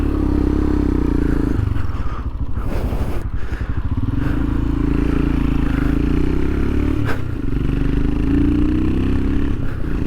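Royal Enfield Himalayan 462cc motorcycle riding, a steady loud engine drone with wind rush that stays constant throughout, with brief clattering and scraping mixed in.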